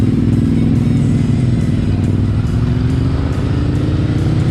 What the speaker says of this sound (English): Listen to that Terminioni titanium exhaust.